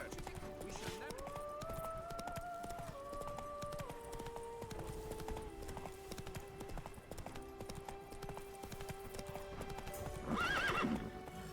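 Hooves of a horse clip-clop in a steady walking rhythm in The Witcher 3: Blood and Wine, with a melodic game score playing underneath and a short whinny near the end.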